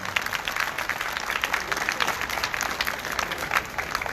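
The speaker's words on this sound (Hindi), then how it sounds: "इनके लिए हम जोरदार तालियां बजाते हैं" A congregation at a church mass with a bishop claps warmly, a steady wash of many hands applauding at moderate distance.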